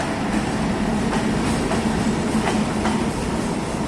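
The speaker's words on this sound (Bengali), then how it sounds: "এই মুহূর্তে একটা ট্রেন আসলো যদিও এটা আমার কাঙ্ক্ষিত ট্রেন নয়" The Benapole Express train pulls into the old Ishwardi railway station, a loud, steady rumble of wheels and carriages with faint rhythmic clacking over the rails.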